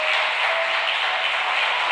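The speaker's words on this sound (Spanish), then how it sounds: "¿Cuánto le da un aplauso al Señor?" Church congregation clapping for the Lord: a continuous, fairly loud hiss of many hands that stays steady and unbroken throughout.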